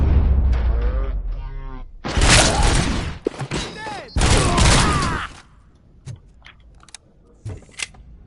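Enemy gunfire in the RoboCop video game comes in two loud dense bursts of rapid shots, followed by scattered fainter pops and thumps, with some talk near the start.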